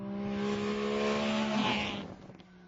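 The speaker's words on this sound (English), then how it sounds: "which made the Saab Sonett sound more like a bike than it did a car" Saab Sonett with a 748cc two-stroke three-cylinder engine, a steady buzzing, bike-like drone held close and loud, then fading away at the end.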